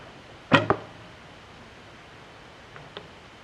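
An arrow loosed from a traditional bow being tuned, one sharp release and thwack near the half-second mark, then a fainter second tap later, with no talking.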